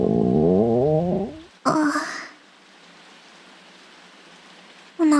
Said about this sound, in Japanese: 雨が降ってるし